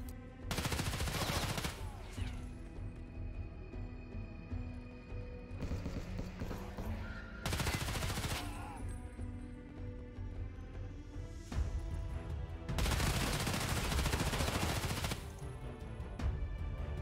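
AR rifle gunfire in the video game Escape from Tarkov, loud rapid-fire bursts of a few seconds each with gaps between, over a sustained musical background.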